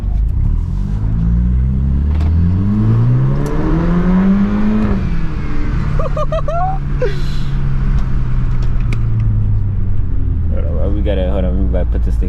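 BMW F30 sedan accelerating on a road pull, engine droning and climbing in pitch through gears from inside the cabin, with people talking over the engine noise.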